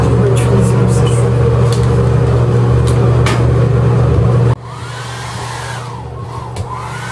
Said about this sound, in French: Je vais utiliser le sèche-cheveux.